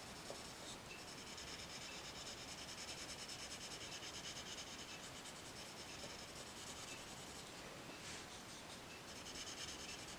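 Canary yellow colored pencil blending across paper, a steady soft scratchy rubbing that continues unbroken, close and quiet, with no talking.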